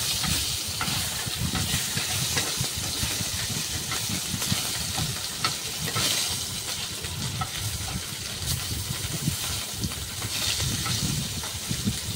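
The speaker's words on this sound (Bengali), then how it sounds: "দেখতে পাচ্ছ এখানে চ্যাং মাছ কেটে ফ্রাই করছি।" Pieces of chang fish frying in a pan give off a steady, close sizzle and hiss that carries on without a break, with faint stirring noises now and then.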